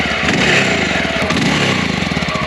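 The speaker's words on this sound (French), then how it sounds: "écouter les sons des différents échappements de la moto" A loud, steady engine note from a 1996 Honda NX650 Dominator (RD08) single-cylinder motorcycle exhaust, rumbling continuously and close with a throbbing pulse and no talk.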